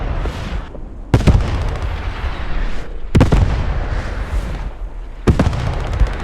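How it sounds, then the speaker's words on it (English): Artillery shells land in a multiplayer war video game: three heavy booming impacts arrive at roughly two-second intervals, each followed by rumbling debris and sustained battlefield noise, with no voices. "artillery coming in."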